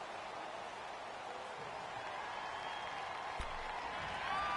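Stadium crowd noise from a PS4 football video game, a steady broadband roar of home-field fans that swells slightly toward the end, with a brief sharp knock partway through and no speech.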